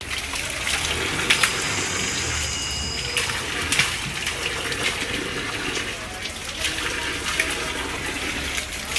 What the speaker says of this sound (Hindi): ये कोई टंकी से पानी नहीं आ रहा है, ये पहाड़ों में से ही आ रहा है।